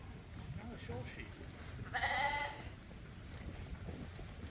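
One sheep gives a single clear bleat at farm scales during weighing, while people talk around it.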